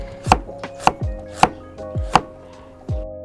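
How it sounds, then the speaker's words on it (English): A knife slices carrots thinly on a board in six crisp, evenly spaced chops, close and distinct with nothing else in the background. "you want to slice the carrots thinly so it cooks quickly"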